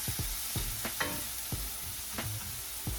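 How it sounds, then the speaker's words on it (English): Food sautéing in a pan, with a soft steady sizzle and several sharp stirring scrapes and clacks of a utensil against the pan at irregular intervals, close and fairly quiet, with no talk. "I'm just sauteing it now."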